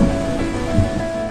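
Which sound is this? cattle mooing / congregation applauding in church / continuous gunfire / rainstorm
rainstorm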